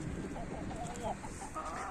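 Chickens and roosters let out of the coop for the first time cluck softly nearby, a few scattered calls over a faint outdoor background.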